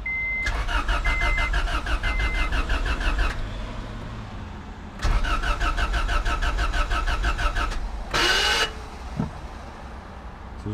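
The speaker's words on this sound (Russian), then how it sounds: "Звук вроде нормальный, стартер крутится." An Acura Integra's starter cranks over and over without the engine catching, in two long bursts of rapid, steady whirring with a short pause between, followed by a brief squeal and some handling noise.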